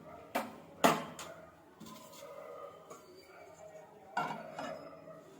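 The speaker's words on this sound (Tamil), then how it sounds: "கேஸ் ஆன் பண்ணி கடாய் வச்சுக்கலாம்." A metal kadai set down on a gas stove, a few sharp metallic clanks and knocks close by, with two strong hits near the start and another cluster later, quiet in between.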